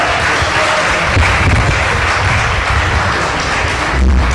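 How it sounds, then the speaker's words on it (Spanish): Steady, dense applause from a large seminar audience for a panel, broad and even with no clear breaks. "Otro aplauso para este panel, por favor."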